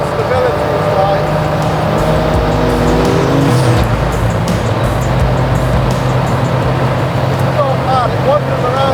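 A Donkervoort P24 RS lightweight supercar roaring at very high speed, its engine note loud and sustained with rising and shifting tones amid wind and road noise, while a person talks over it.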